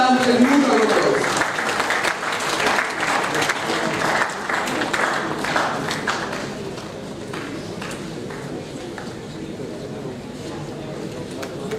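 A round of applause welcomes a guest at a national conference, strongest at the start and thinning gradually, with faint voices and background murmur beneath.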